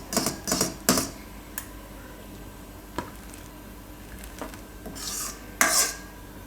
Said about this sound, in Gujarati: અને મિક્સ કરી લેવું